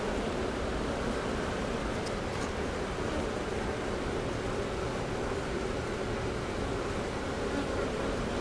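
A steady, dense hum of honeybees buzzing continuously around a hive, with no talking, holding an even level throughout.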